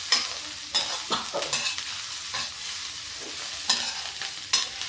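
Asafoetida and pickle spices fry in a pan for a spicy chilli pickle, giving a soft, steady sizzle broken by a handful of scraping stirs, close but fairly quiet, with no one speaking.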